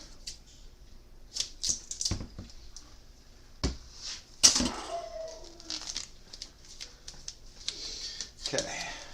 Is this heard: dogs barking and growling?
no